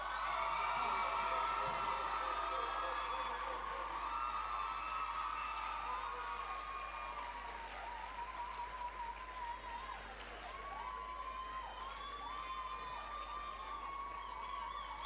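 Applause and scattered cheers and whoops from a school crowd at a valedictory service, sustained and somewhat distant, with voices calling out over the clapping.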